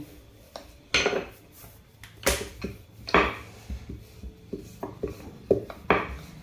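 A knife cutting rolled dough into kapanya pieces, producing a series of irregular clicks and taps against a hard surface, close and fairly distinct with no talking.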